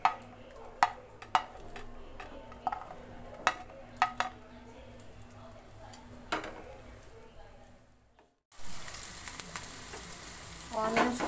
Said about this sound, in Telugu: ఆయిల్ వేడయ్యాక ఫస్ట్ మనం ఉల్లిపాయను ఫ్రై చేసుకుందాం